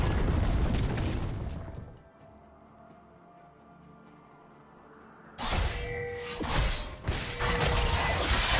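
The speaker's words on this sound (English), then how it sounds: "Red team's turret has been destroyed." A turret collapses in League of Legends: a loud crashing, shattering burst, then a quieter lull with low tones, then another sudden loud crumbling crash with debris-like crackle.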